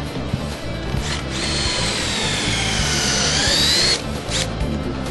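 A drill bores a flat-bottomed pocket hole through a thick 3/4-inch board clamped in a Kreg pocket hole jig, whining steadily at close range for about three seconds before spinning down, with no talk over it.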